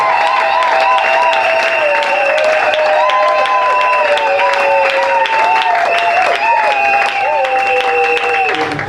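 Church congregation applauding and cheering together, a loud, sustained mass of clapping with voices and melodic singing or shouting layered over it throughout.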